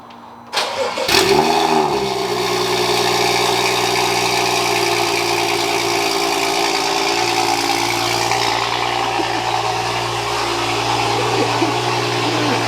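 BMW M235i with N55 engine and VRSF catless downpipe firing up for the first time: a sharp starter crank, a loud rev flare, then a steady deep idle drone close by.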